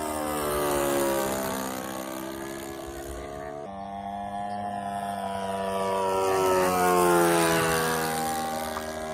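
A small airplane engine drones steadily in flight, a loud buzzing propeller hum that swells and dips in pitch over several seconds, with faint talk beneath.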